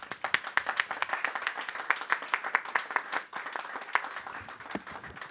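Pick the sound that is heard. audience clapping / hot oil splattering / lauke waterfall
audience clapping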